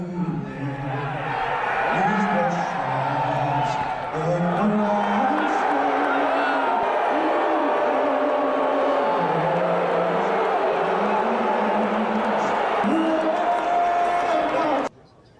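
An NBA Finals arena crowd boos President Donald Trump: a sustained roar of many voices with rising and falling jeers, loud and continuous, cutting off abruptly at the end.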